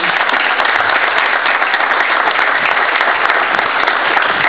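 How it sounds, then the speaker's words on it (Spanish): Loud, dense applause fills a political meeting of Liberal party supporters, sustained and even for several seconds as a crowd claps for a former mayoral candidate. "le pido un fuerte aplauso"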